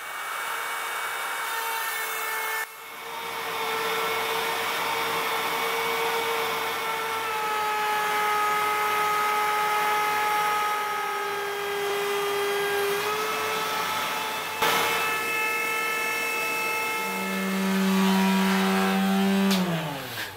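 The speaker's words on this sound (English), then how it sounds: "The only thing more boring than watching someone cut wood is watching someone sand wood." Power sander working wood edges during a multi-function workbench build, a loud steady whining drone that runs nearly continuously for about twenty seconds, with a brief dip near the start and a pitch shift toward the end.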